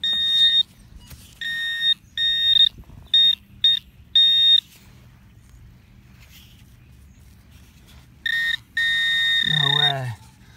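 A metal detector pinpointer gives bursts of bright, steady electronic beeps, some short and some held, separated by quiet gaps where faint digging and handling noises sit underneath.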